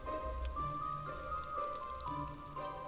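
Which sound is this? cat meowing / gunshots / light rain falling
light rain falling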